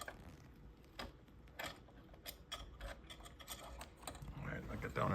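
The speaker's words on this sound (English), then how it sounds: "I'm just tightening these screws that I took out originally" Small screws being tightened into a Porsche Cayenne headlight assembly, a series of quiet ratcheting clicks and faint mechanical ticks in an irregular rhythm, close by, with a steady low background hum and no talk.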